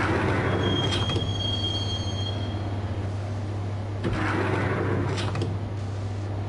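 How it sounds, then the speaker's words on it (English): Train riding in Max Payne: a steady rumbling rail car with a continuous low hum, high wheel squeals and rattling bursts around the start and again near the end, carried alone without voices. "the train doors had already shut behind me, and I was in for the ride"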